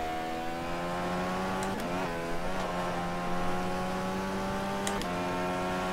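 A DW12 IndyCar twin-turbo engine in rFactor 2 holds a steady high-revving whine, with quick shift blips and brief dips around gear changes, loud and alone.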